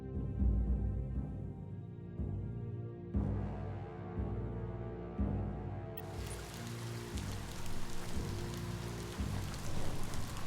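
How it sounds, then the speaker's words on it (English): Rain falls steadily in the video game Biomutant, a continuous hiss that thickens and grows louder partway through, over a layered in-game music bed with no talk. "Don't get swept away in the rain."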